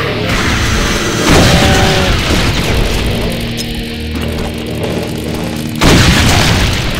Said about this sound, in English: Can I get a grenade to that?